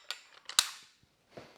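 A machined tripod clamp is locked and unlocked, giving a few sharp close metallic clicks and snaps in quick succession followed by a softer final click.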